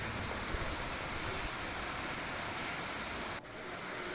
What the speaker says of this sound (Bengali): যেমন ঝড় তেমনি বৃষ্টি।